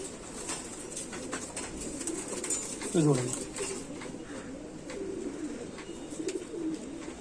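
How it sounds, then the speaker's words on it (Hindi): A pigeon in a breeder's loft gives soft, low cooing calls, with one clearer coo near the middle, under someone talking and a steady background hiss. "तो ये है जी शेखों वाले ब्लड से एक कबूतर है"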